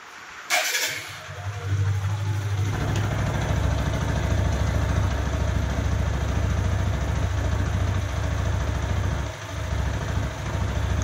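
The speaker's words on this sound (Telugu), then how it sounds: "ఒకసారి మనం ఇవన్నీ ఫిట్ చేసుకునేసి తర్వాత ఇంజిన్ బీటింగ్ అది విందామా" A repaired motorcycle engine starts and settles into a steady, even idle, close and continuous with a low throbbing beat and no talk over it.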